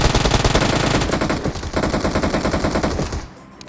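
Rapid, loud automatic gunfire in PUBG Mobile rattles in dense bursts for about three seconds, then cuts off abruptly into near silence.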